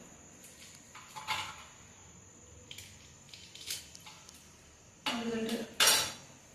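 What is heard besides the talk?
knife cutting a fruit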